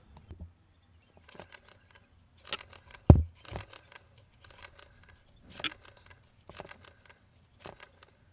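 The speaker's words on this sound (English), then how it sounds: "There's a little bit of a clicking when I spin it." Blower motor from an old Lexus GX470 being spun by hand, giving faint irregular clicks and ticks spread across quiet background, with one sharper knock near the middle.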